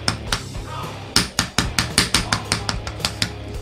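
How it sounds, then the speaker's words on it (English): Hammer blows chip at the plaster block of a Discovery Kids dinosaur dig kit, about a dozen crisp, close strikes in quick succession, louder in the middle and then tapering off. "Let's get the hammer."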